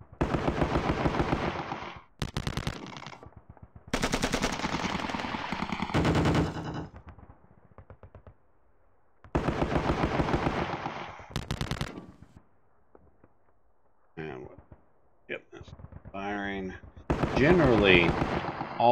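Gunfire in the wargame Sealion '40, with bursts of rapid machine-gun fire and sharp shots coming in several loud clusters separated by short quiet gaps.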